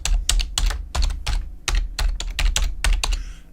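A command being typed on a computer keyboard, keys clacking in quick, uneven bursts of individual strokes, close and fairly loud, with no talking over them.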